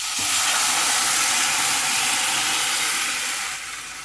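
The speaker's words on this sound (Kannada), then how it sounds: "ಇವಾಗ ಈ ಟೊಮೆಟೊ ರಸನ ಇದರಲ್ಲಿ ಒಗ್ಗರಣೆಯಲ್ಲಿ ಆ್ಯಡ್ ಮಾಡೋಣ" Tomato juice poured into a hot tempering of spices in a home kitchen pan sizzles loudly as a steady, broad hiss, easing off slightly near the end, with no voices.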